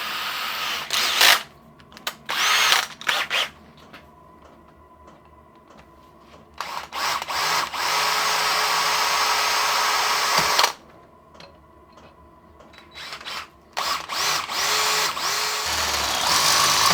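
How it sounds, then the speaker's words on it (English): A cordless drill whirs in several bursts, some short and some sustained for seconds, with quiet pauses and clicks between them, close by. "Just going to drill these freehand."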